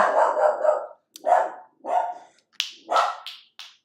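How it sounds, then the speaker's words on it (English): A pet dog barks at the door in a series of about five loud, close barks, the first a long sustained yowl followed by sharper separate woofs with short gaps between them. "And if anyone else comes up, she's what we would say is a barker."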